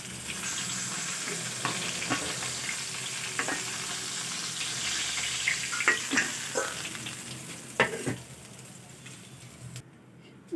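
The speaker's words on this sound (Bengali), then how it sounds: "মাছগুলো আমার খুব ভালো করে উল্টে পাল্টে ভাজা হয়ে গেছে" Bhola fish fry in hot oil in a pan with a dense, loud crackling sizzle, punctuated by occasional clinks and turning sounds, close up and continuous until a sudden cutoff near the end.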